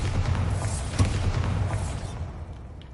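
A Bombarda explosion spell goes off in Hogwarts Legacy, a deep booming blast with a thud near the one-second mark over a continuous loud low rumble that fades toward the end.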